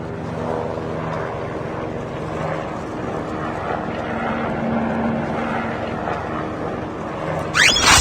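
Aircraft droning during a redeploy flight in a battle royale video game, a loud, steady engine and propeller hum that holds without a break, then a brief sharp sweep at the very end.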